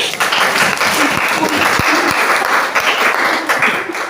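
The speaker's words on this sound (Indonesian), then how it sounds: "sekali lagi berikan aplaus yang meriah" A school audience claps for a sociology drama group, giving a dense, steady round of applause that fills the space from start to finish, loud and close, with faint voices blended in.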